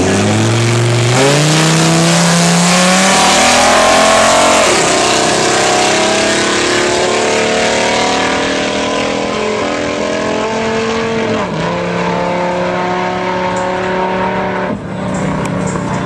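Dodge Viper with nitro accelerating hard on a race track, engine revving up through rising pitches with gear shifts, loud and continuous as it pulls away.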